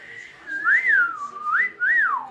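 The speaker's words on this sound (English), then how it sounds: "Yeah, but I can whistle like" A person whistles alone and up close, producing several clear rising and falling tones in a wavering, melodic pattern.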